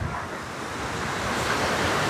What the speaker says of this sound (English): Pretty little set of waterfalls.